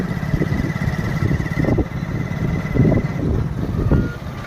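Tractors approaching on a rural road, loud diesel engine rumble close by with pulsing surges, a steady high tone running through the first part and a short beep near the end.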